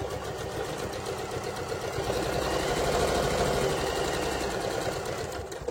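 A sewing machine stitches fabric all around a beginner's cigarette case at a 1 cm seam, a steady mechanical whirring hum that swells slightly midway, with no talking.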